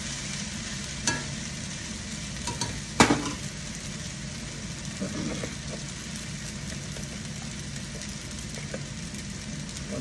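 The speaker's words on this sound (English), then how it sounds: "Just kind of stirring the noodles around this vinegar" Noodles stirred around a pan of white wine vinegar for a Cajun chicken Alfredo: a steady wet sizzling hiss throughout, with a few sharp utensil clicks and scrapes against the pan.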